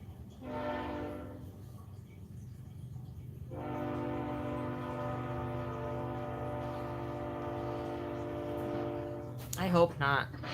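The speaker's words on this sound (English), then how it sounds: "Can you guys hear the train?" A train passes in the distance, sounding a long, steady horn blast after a brief earlier toot, over a low continuous rumble, with a short burst of nearby noise at the end.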